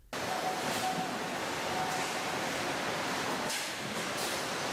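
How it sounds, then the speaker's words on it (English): Heavy continuous mist from a massive industrial sprinkler system blanketing stacked timber in an outdoor log yard, a steady loud broadband hiss like rushing surf with slight swells, no voices. "Out in the log yard, a massive industrial sprinkler system runs continuously, blanketing the entire timber inventory in a heavy rolling mist."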